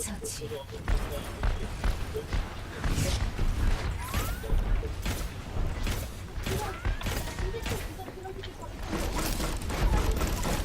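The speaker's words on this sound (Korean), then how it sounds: "쏘고 쏘고 쏴 쏴 쏴 열심히 쏴" Rapid gunfire from a turret and guns in the Overwatch video game, with Torbjörn and Bastion in play: dense, loud, repeated shot bursts and impacts run continuously, with someone talking excitedly over the shooting.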